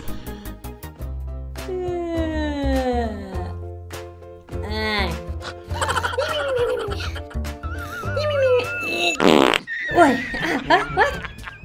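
Cartoonish fart sound effects in the video game Ice Scream Chapter 3, a run of loud, long, wobbly toots with pitch slides, mixed with laughter and chuckling.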